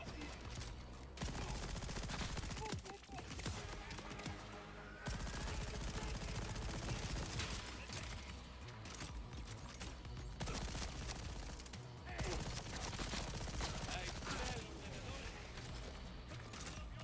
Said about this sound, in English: was I shooting exploding bullets?